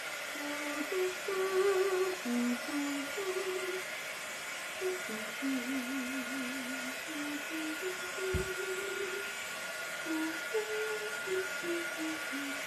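A hair dryer runs steadily over fresh paint on a Dollar Tree flower pot, its constant motor whine and airy hiss holding throughout while background music plays on underneath.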